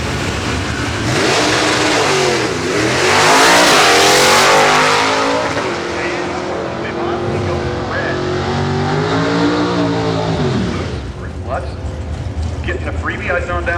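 Drag racing cars at the Woodburn Dragstrip bracket-racing fall event roar off the line and accelerate down the track, engine note loud then fading, with a voice talking over it.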